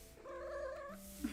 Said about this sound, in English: That was my cat, sorry.